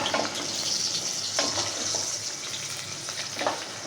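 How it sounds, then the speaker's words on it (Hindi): Finely chopped medium onions frying in hot oil over high heat, a close, steady hissing sizzle with a few soft pops and stirring scrapes, no voices. "पहले तेज़ आंच पे फ्राई करेंगे, फिर थोड़ा सा स्लो कर देंगे ताकि ये अच्छे से ब्राउन हो जाए"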